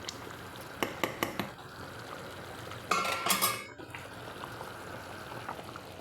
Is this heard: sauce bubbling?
yes